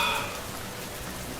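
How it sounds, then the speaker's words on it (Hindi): Heavy rain pours down in a steady, dense hiss, close and loud throughout the short stretch, with no voices over it. "बारिश काफी ज्यादा तेज पड़ रही होती है"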